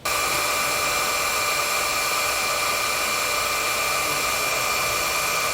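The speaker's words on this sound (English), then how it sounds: "we'll grab our heat gun to shrink that down" A heat gun blows steadily at close range, shrinking heat-shrink tubing over brake wires during a HydraStar electric-over-hydraulic disc brake actuator install on a 2018 Shasta trailer; a constant, loud rushing hiss runs unbroken throughout.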